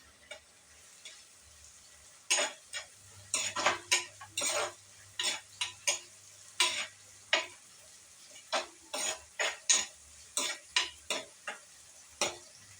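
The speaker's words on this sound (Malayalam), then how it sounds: "നല്ലതുപോലെ ഇളക്കി കൊടുക്കാം." A spoon scrapes and clinks repeatedly against a pan while curry leaves and green chillies are stirred, in an irregular rhythm of sharp, close strokes over a faint low hum, with no voices.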